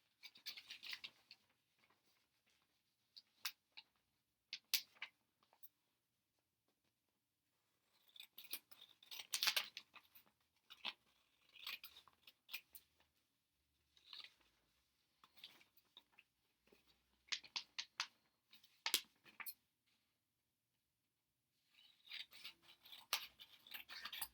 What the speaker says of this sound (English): we're going to cut along the dotted lines